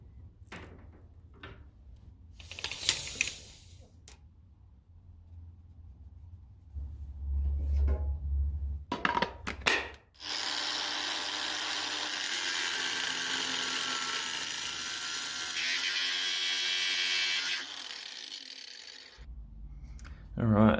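A power saw grinds through metal stock for several seconds after some clunks and handling noises, its harsh high whine cutting off abruptly.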